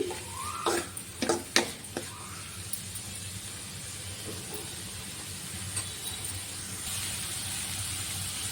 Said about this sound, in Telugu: శనగపప్పును కూడా వేసుకొని వీటిని బాగా పచ్చివాసన పోయే వరకు బాగా వేయించుకోవాలి